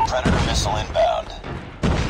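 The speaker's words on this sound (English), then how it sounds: "Predator missile inbound." Predator missile strike in Call of Duty Mobile, a 10v10 Domination match: several heavy booms and thuds in quick succession, loud and close, with game voice lines over the blasts.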